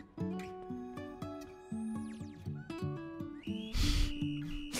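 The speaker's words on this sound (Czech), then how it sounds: "zapískal jak trenér" A whistle blown in the video game Scary Teacher 3D sounds over a bouncy game music loop: quick high sliding whistle tones, then a noisy burst near the end.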